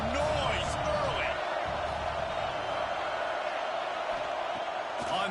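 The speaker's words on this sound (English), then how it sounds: "This crowd bringing the energy and noise early" Stadium crowd roar in the College Football 26 video game during a dynasty-mode game, a steady broad wash of noise with a few brief shouts, sitting beneath play-by-play commentary.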